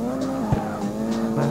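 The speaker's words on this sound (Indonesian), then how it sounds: "kita test drift" A car drifts in the mobile racing game CarX Street, the tires squealing steadily over a droning engine note that shifts pitch partway through, loud and continuous in a short burst without voices.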